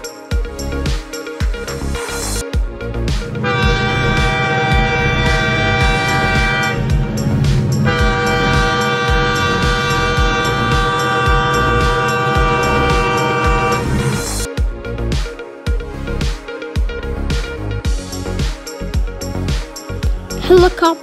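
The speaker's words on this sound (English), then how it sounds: "Train." A train rumbles along with a sustained horn blast through the middle, loud and close, surrounded by clattering rail noise before and after.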